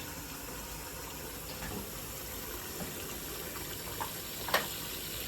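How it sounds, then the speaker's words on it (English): Tap water gushes steadily into a cooking pot for St. Patrick's Day corned beef, a continuous moderate rush with no talking over it. "Fill our pot the rest of the way with some water."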